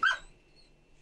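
A dog in the Call of Duty Modern Warfare 2 video game gives one sharp, loud bark, followed by near silence.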